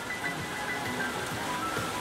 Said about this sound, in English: It's raining, baby.